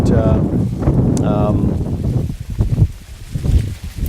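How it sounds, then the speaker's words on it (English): Strong wind over North Dakota crop fields roars and buffets the microphone in a low, rumbling gusty wash, with a voice briefly audible near the start. "It's very windy."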